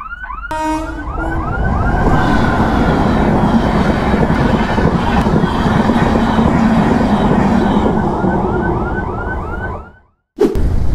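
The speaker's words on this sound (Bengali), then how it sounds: "ট্রেন ঢুকছে, হুইসেল পেয়ে গেছি।" A train on the Howrah–Azimganj line approaches a railway gate with its whistle blaring, a loud, long wailing horn with rising and falling pitch sweeps repeated over a continuous rumble, close by and sustained for about ten seconds.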